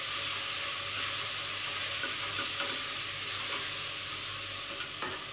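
Onions fry in a pan while being stirred, a dense, steady sizzle close up with faint scraping of the utensil now and then, and no talking.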